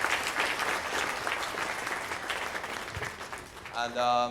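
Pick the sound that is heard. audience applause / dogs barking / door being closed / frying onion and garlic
audience applause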